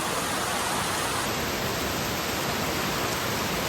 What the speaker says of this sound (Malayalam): മഴയാണ്, മഴ മഴ